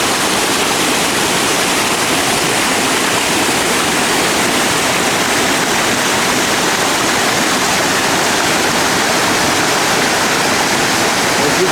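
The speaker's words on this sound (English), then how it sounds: "As you can tell, you can really hear the water." A waterfall in a hardwood forest roars loudly and steadily as water pours over the falls, a dense, unbroken rush that holds at full strength from start to finish with no voices over it.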